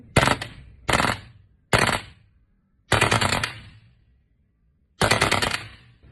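Five bursts of rapid full-auto fire from a WE M4 gas blowback airsoft rifle, each loud and sharp with clattering bolt cycling, separated by short silent pauses.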